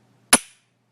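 A single sharp metallic click from a dry-fired pistol trigger, close and crisp, followed by silence.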